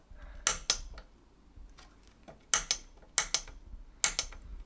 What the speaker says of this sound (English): when it gets to 6 you'll hear like a little click